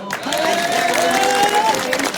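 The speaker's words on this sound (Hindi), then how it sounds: "अगर किए तो जरा ताली तो बजा दो" A crowd at a political rally claps and cheers briefly, a dense burst of hands mixed with raised voices and a sustained shout or whistle-like tone riding over it.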